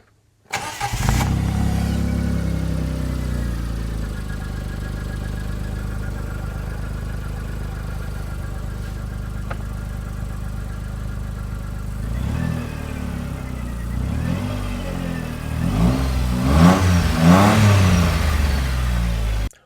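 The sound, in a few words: John Deere Gator engine starting and throttle revving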